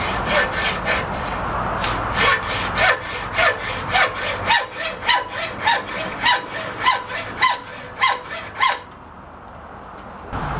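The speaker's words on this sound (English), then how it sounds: "So I'm going to split it with a hacksaw" A hacksaw cutting through metal clamped in a newly mounted vise, a steady rhythm of about twenty rasping back-and-forth strokes that speed up slightly before the cut finishes and the sawing stops.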